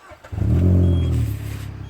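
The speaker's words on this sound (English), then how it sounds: "I'm going to turn the key and let you listen to this exhaust." A Peugeot 206 GTi 180 engine cranks and fires up, its exhaust settling into a loud, steady idle drone close by after a short start, with no talking.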